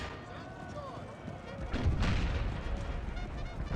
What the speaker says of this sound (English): Looks like light horse artillery.